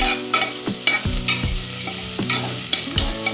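A spoon scrapes and stirs cumin seeds, crushed ginger and garlic, and green chillies frying in hot coconut oil for a duck curry. Several sharp, evenly spaced stirring strokes ring out over a steady, close sizzle.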